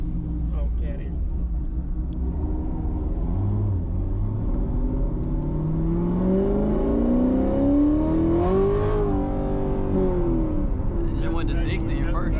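A cammed Corvette Z06 accelerates hard in first gear, its engine rumble rising steadily in pitch to a peak and then dropping off, heard from inside the car while people talk over it.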